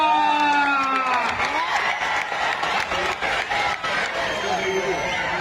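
A crowd at an outdoor wrestling ground in Bhosari, Pune claps and cheers amid lively shouting, with noisy voices carrying over steady applause.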